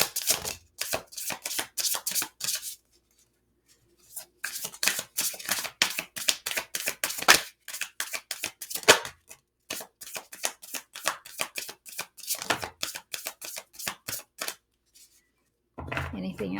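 Tarot cards are shuffled by hand on a table in quick, crisp riffling bursts that come in several close-miked runs with short pauses between them, and no voice speaks over them.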